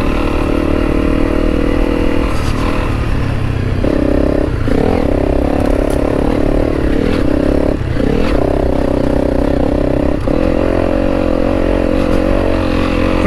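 A Honda CRF300L Rally motorcycle rides a dusty trail, its engine loud and close, pitch climbing and dipping through gear changes with clattering and scraping from the rough ground.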